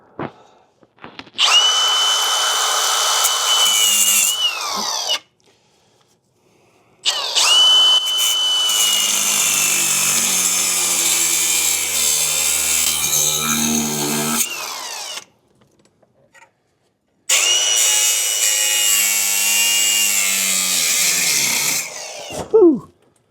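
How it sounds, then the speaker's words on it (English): Angle grinder cutting through a seized rear shock bolt on a 1967 Camaro, loud and close in three long whining bursts with brief silent pauses between, the pitch sagging as the disc bites into the metal and winding down at each stop. "This might be coming out with the grinder."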